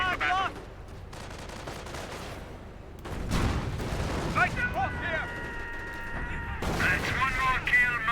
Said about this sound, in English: the other Warfman is now firing as well